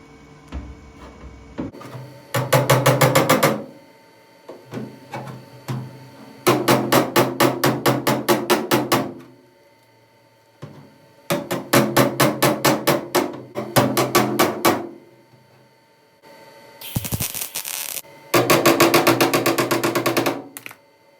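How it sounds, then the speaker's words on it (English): A hammer taps a replacement cab corner panel on a Chevrolet C10 pickup into place: loud, close bursts of rapid metallic taps separated by short pauses, with no voices. "So we're just going to tap this in a little bit and get this a little closer."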